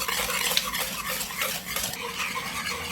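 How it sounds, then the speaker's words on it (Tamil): Eggs and sugar beaten together by hand in a bowl until the sugar dissolves: continuous, fast, close-up whisking and scraping against the bowl, with no voices. "கை விடாமல் மிக்ஸ் பண்ணுங்கள்."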